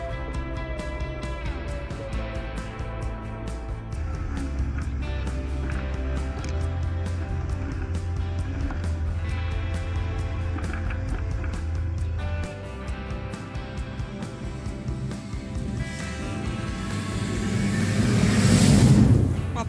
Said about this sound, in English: But even on rough terrain, we could accelerate more than 40 km per hour.